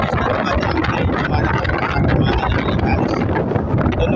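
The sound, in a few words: strong wind on the coast during typhoon Uwan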